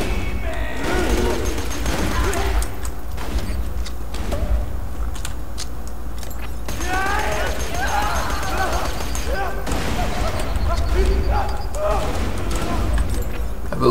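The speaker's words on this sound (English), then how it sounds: "I'll take out the lackeys with the submachine gun." Submachine gun fire in the Borderlands video game comes in rapid bursts amid explosions and clattering combat effects, while a person talks over the chaotic action throughout.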